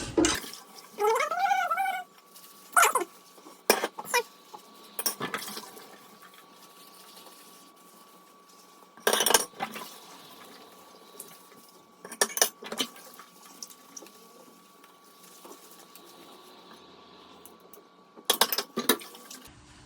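Dishes being washed by hand with a sponge and dishwashing liquid, giving intermittent splashing water, scrubbing and clinking of plates in bursts, fairly close, with no talking.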